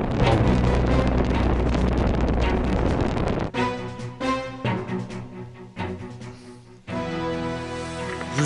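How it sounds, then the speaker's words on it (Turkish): Strong wind blows outdoors as a loud, blustery roar buffeting the microphone for a few seconds, then gives way to music. "Rüzgar var Yavuzucu"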